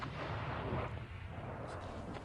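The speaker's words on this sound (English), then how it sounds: "That was one of the rockets heading out down towards into the plains around the city of Mosul" A military rocket launched by US troops from the 101st Airborne Division toward the plains around Mosul, Iraq, heard as a sustained distant roaring rumble with a slight swell early on.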